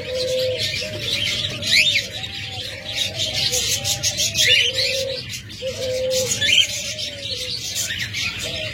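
A master pair of pet birds, lovebirds or doves, call repeatedly in a steady rhythm of soft rising coos with higher chirps overhead, close by and fairly loud, with no voices.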